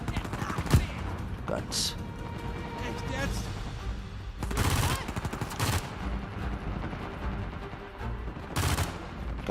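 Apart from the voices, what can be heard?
gunfire in the video game Uncharted 4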